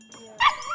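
A dog named Bailey, just arrived from Australia, gives a single short bark with a whiny edge in the loading bay of the Heathrow animal reception centre, close and fairly loud after a brief quiet moment.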